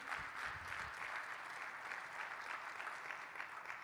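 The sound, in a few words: church audience applause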